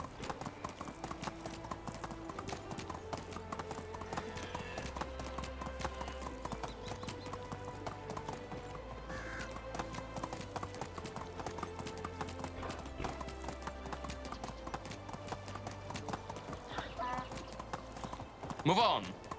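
Horse hooves clip-clop in a steady rhythmic trot while riding in the Medieval Dynasty video game, with game music underneath and someone talking over it.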